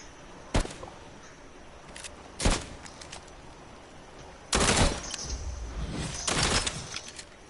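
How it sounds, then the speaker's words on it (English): Gunfire in Fortnite: a few sharp isolated shots early, then a longer burst of rapid firing with crackling impacts, fairly close against a quiet background. "Jeremy, I think someone's shooting at you from behind."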